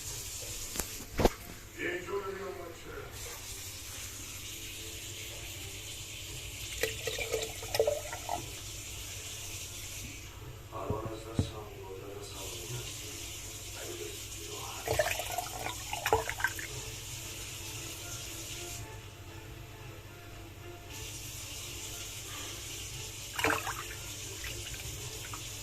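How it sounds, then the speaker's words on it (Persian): Water poured into the salt reservoir of a dishwasher, a steady trickling and splashing that runs throughout with a few brief pauses. A voice speaks intermittently over the flow. "خب حالا ما داخل این مخزن انقدر آب باید بریزیم تا"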